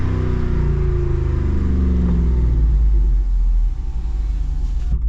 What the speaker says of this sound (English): It's always good to hear that V8 392